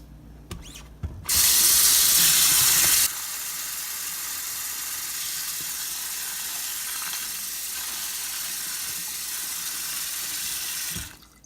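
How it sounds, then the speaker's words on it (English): Tap water runs steadily over sunflower seeds in a strainer at a sink, a brief harder gush at first settling into a continuous close hiss, then cut off. "put your seeds in a strainer like this, and then turn on the water"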